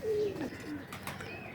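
Racer pigeons coo softly in a loft, a few low throaty coos rising and falling over a quiet background, with faint chirps from other birds nearby.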